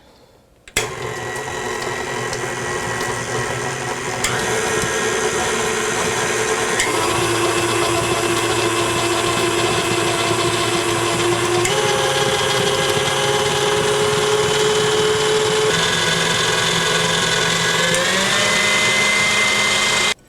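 A stand mixer whips butter for crusting buttercream icing, a steady loud motor whir with shifting pitch as the beater churns, continuous throughout with no talking.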